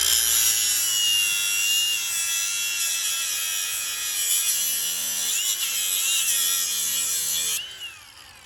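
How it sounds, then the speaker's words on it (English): An angle grinder cuts through a Kawasaki Mojave's drive chain, a loud, continuous high-pitched whine and grind that holds steady for about seven seconds, with the pitch wavering under load before it winds down near the end. "I'm just gonna cut it with the grinder"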